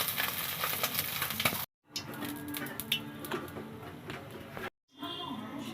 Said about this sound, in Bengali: শুকনো মরিচ দিয়ে দিলাম